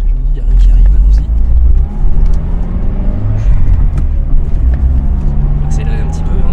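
A Toyota Starlet Glanza V accelerates, a deep low engine rumble rising gently while people talk over it throughout.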